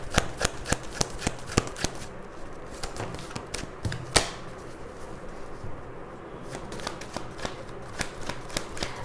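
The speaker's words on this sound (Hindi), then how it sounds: "मैं रैंडमली एक कार्ड निकालने वाली हूँ" Tarot cards being shuffled close up, rapid flicking riffles and taps in uneven bursts, then quieter card handling as one is drawn, with no talk.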